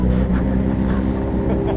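The BMW M 1000 RR factory superbike's engine revs, giving a loud, close, throbbing roar with fast pulsing that holds steady for the whole short stretch.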